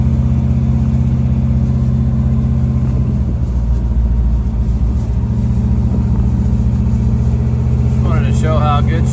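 A 1969 Chevrolet Camaro V8 with 3-inch exhaust running all the way back through an X-pipe, giving a loud, steady low rumble that swells into revs, close by, with a voice talking briefly near the end.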